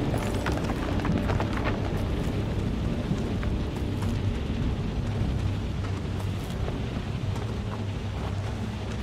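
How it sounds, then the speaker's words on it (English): A thunderstorm in the horror video game Outlast 2 rages with constant heavy rain and deep rumbling thunder, a dense, loud roar that fills the whole stretch without letup. "The storm's getting worse!"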